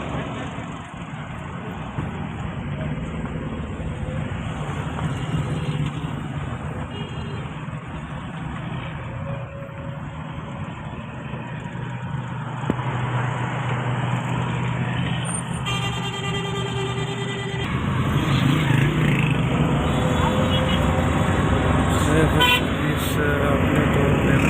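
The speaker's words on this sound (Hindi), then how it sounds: "ट्रैफिक यहाँ कुछ हद तक" Jammed traffic at a chowk in Mansehra: a steady roar of car and truck engines close by, with scattered horn toots and beeps, brighter and busier in the second half, under some faint voices.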